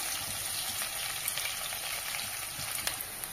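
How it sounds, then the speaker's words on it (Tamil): Shallots sizzling in hot oil in a pan for tomato kulambu, a dense, steady frying hiss with faint crackles and occasional stirring ticks, close and continuous with no talk. "அது நல்லா பொன்னிறமாக வர்ற வரைக்கும் வறுத்துக்கோங்க."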